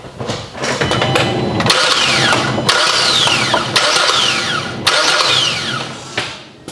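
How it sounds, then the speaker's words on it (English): Kia Sportage engine cranked briefly with the key during a serpentine belt change, the starter whirring in several short bursts separated by brief pauses, loud and close, without catching into a steady run. "I'm just gonna put the key in, give it a quick little turn."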